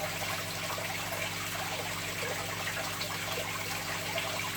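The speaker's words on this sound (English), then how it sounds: "we'll just release some of the water from the tank now back into the bowl" Water from a shrimp tank streams back into a bowl, a steady close trickling and splashing pour that runs on without a break.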